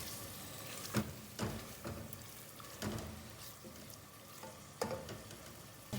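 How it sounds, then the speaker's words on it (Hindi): Minced keema cooking with bitter gourd in a pan, a steady soft sizzle broken by several louder scraping stirs, close and alone without talk. "अब इसको थोड़ा सा मैं भून लूँगी।"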